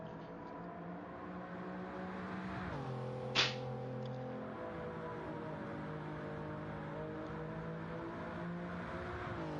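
Several GT3 race cars drone around High Speed Ring in a racing video game, their layered engine tones holding a steady pitch and then shifting as they pass, with one short sharp whoosh partway through.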